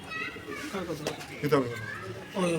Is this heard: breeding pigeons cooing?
yes